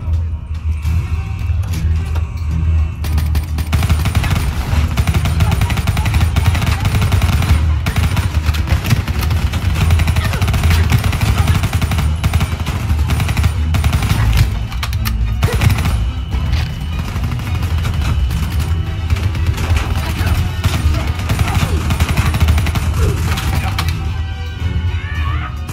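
Sustained gunfire in the Call of Duty: Black Ops 3 campaign, dense bursts of automatic shots and impacts rattling on almost nonstop over a low rumble, loud and close, with brief lulls near the start and end.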